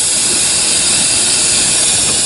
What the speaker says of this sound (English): So now you hear the air pressure.